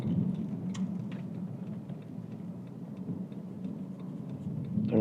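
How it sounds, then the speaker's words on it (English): Turn signals of a 2011 Porsche 911 Turbo S ticking softly and regularly inside the cabin over the low, steady rumble of the car on the move. "Turn signals work good"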